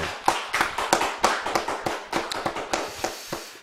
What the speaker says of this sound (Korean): 예, 하나님께 큰 영광의 박수 올려드리겠습니다.